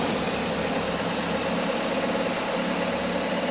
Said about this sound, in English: Press and hold engine start.